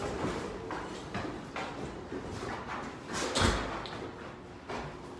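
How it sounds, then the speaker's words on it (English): A barn door on an open plain swings and knocks in the wind, with steady gusty rushing throughout and a sharper bang about two-thirds through. "Yeah, that's just the door."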